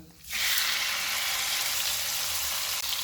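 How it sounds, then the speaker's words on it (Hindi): Beef mince hitting hot oil with cumin seeds in a pan bursts into a loud, steady sizzle after a short quiet moment, frying close and continuous with no talking. "500 ग्राम बीफ का कीमा डालेंगे"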